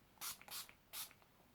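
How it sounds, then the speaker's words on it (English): Makeup Revolution Pro Fix Amazing Makeup Fixing Spray gives three quick close pumps, two in fast succession and a third after a short pause, each a soft airy hiss alone in a quiet room. "So I like to use the Pro Fix Amazing Makeup Fixing Spray by Makeup Revolution."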